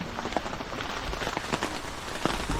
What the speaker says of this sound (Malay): hujan pula.